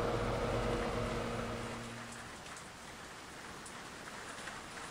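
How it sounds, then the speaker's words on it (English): Rain falls steadily in a scary video game, a soft, even hiss of drops with no pauses. A low hum under it fades away during the first couple of seconds, leaving only the quiet rain. "Actually, it's raining."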